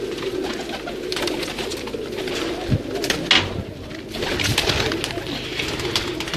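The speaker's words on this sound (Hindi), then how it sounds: "अब आपको कुछ नायाब कबूतरों का शौक करवाते हैं" Fancy pigeons coo in soft, repeated throaty bursts close by, with some fluttering and small knocks between the calls and no talking.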